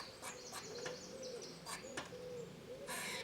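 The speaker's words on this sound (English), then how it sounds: "You can also hear the squawking from another squirrel." Sharp, chattering squawks repeat in short bursts from an animal at moderate distance, with a harsher rasping burst near the end and no talking.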